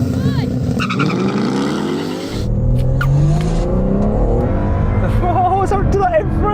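Three tuned drag cars, a 750hp Nissan Skyline R34 GT-R, a 735hp Mustang and a BMW M3, launch and accelerate hard together, engines roaring loud and continuous with rising pitch sweeps.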